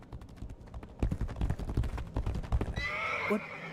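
Video game horse gives a loud whinny over rhythmic clip-clopping hooves, followed by a brighter swell of game effects near the end; close and prominent.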